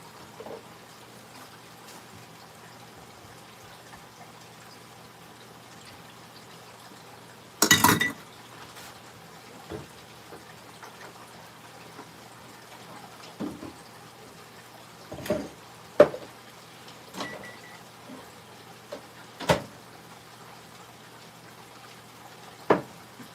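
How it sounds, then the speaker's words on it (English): A whisk stirs milk and other ingredients in a mixing bowl for a simple country breakfast, giving scattered metallic clinks and taps against the bowl, one louder clatter early on, then sparse knocks over a quiet room with no talk. "So finish getting this whisked up to make sure that everything is totally incorporated."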